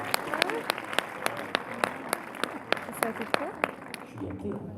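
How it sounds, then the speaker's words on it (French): Audience applause with scattered sharp claps over a murmuring crowd, fairly steady for several seconds before tapering off. "On peut l'applaudir, elle a amené un cadeau de Noël."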